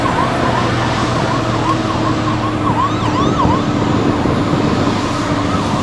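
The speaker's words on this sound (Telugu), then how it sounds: "అంబులెన్స్ వస్తుంది వెనకాల" An ambulance siren wails in a steady rising-and-falling pattern over the dense rumble of nearby city traffic in Aizawl.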